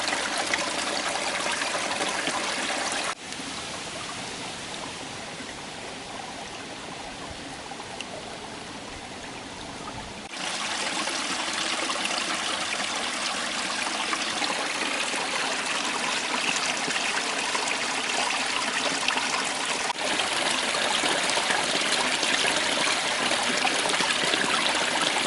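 River water rushes steadily over rocks, a constant broadband burble that holds through the whole stretch with one quieter, softer passage.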